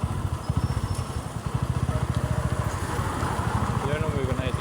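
A motorcycle idles close by at a roadside vulcanizing shop, its engine a steady low rapid putter that runs throughout under a voice speaking.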